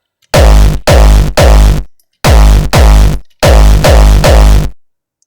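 Hardstyle kick drum with one distortion band turned down, its loud distorted hits repeating in groups of three with short gaps between them, close and punchy with no voices.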